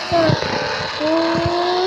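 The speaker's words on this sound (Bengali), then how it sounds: "motoring bike start" A motorbike engine in a video game starts and revs, two rising engine tones climbing one after another over a loud, busy backdrop.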